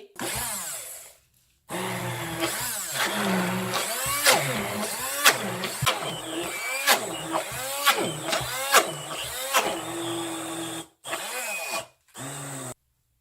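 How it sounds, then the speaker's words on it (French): A stick blender whirs in repeated short bursts, rising and falling in pitch as it mixes homemade acne soap, loud and close with brief gaps of silence between pulses. "je vais utiliser le blender stick pour que ce soit plus rapide"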